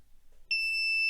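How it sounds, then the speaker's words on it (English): An active buzzer wired to an Arduino sounds one steady, piercing electronic beep on 5 volts, starting abruptly after a near-silent moment and holding loud and unbroken to the end. "that's the active buzzer. You see, I just apply 5 volts and I can hear a beep"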